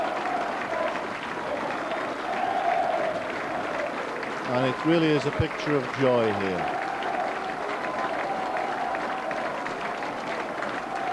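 A big stadium crowd cheers and applauds after a Hull versus Leeds rugby league match, a continuous roar of clapping and noise. A commentator speaks over it, and a short burst of voices stands out partway through.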